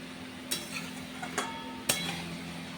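Food sautéed in a pan, heard as a few sharp spatula scrapes and clicks against the cookware over a faint low hum, quiet and sparse.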